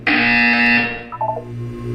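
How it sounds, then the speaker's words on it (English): A loud, harsh buzzer blares for under a second in the video game Portal 2, followed by a few quieter electronic blips and a low hum. "You will hear a buzzer."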